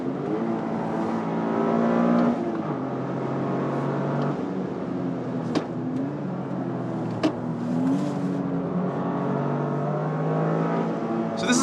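A Toyota GR Corolla Morizo driven hard on a race track, its engine revving continuously with pitch climbing and dropping at gear changes, a few sharp clicks and thumps breaking through the loud, unbroken drone.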